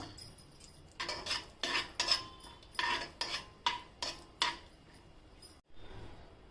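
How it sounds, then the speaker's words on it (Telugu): Cashews, almonds, raisins and charoli frying in ghee in a pan: a series of about ten scraping, clinking stirs against metal over a soft sizzle, close and fairly quiet, with no voices. "డ్రై ఫ్రూట్స్ వేయించుకోవాలి."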